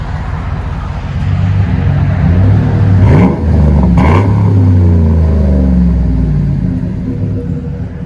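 A Chevy Silverado LT with a 5.3 liter V8 runs close up, a loud low rumble that revs twice in quick succession mid-clip, then eases back toward idle.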